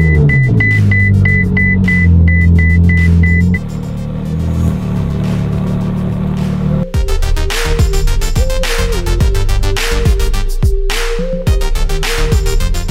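A 2015 Ferrari 458 Speciale Aperta's engine turns over, catches and settles into a loud, busy idle with sharp revving bursts, after several seconds of a lower steady rumble.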